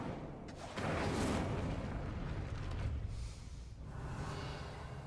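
A fire spell is cast in Hogwarts Legacy, a sudden loud whooshing burst of flame about a second in that roars on and then eases into a lower rumbling crackle, with no speech.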